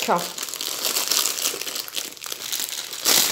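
Crinkly plastic packaging is pulled off a new art canvas, a continuous close crumpling and rustling with a louder burst at the end, while someone speaks French over it.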